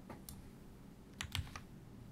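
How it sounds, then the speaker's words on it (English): Quiet clicks of typing on a computer keyboard, a few scattered keystrokes then a short cluster of taps, faint and close. "I guess I can try typing this into a browser"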